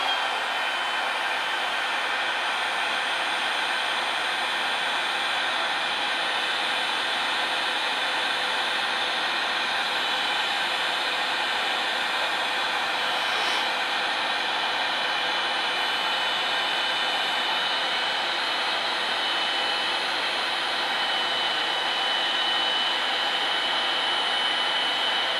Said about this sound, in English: let me do one more with the heat gun